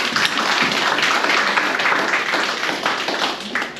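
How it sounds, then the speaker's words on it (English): Audience in a Brooklyn town hall gives a round of applause, a dense, steady wash of clapping that holds at even loudness from start to finish with no voices standing out. "So another round of applause for Brother Ron."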